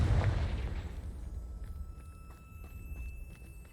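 A Confringo spell explosion in Hogwarts Legacy erupts with a heavy low boom at the start, then decays into a fading rumble with faint scattered ticks and a thin tone behind.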